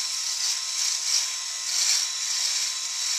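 An electric shaver on its normal setting cuts through beard stubble with a close, steady high-pitched buzz that gently swells and eases over a few seconds.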